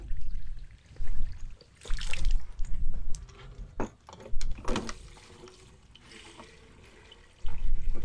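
Water from a tap splashes and trickles into a 15-litre sprayer tank in uneven bursts, with short gaps and a few clunks of handling between pours.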